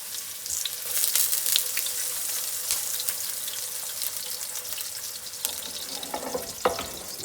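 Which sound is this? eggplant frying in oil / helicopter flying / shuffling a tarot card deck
eggplant frying in oil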